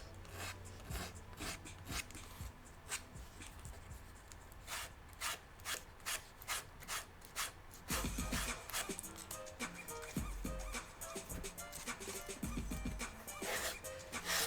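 Leather cut by hand with a straight blade, heard as a faint, close series of rasping, rubbing strokes that grow denser and louder partway through, with no voices.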